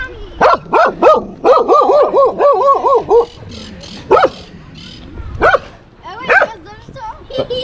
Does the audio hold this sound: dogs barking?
yes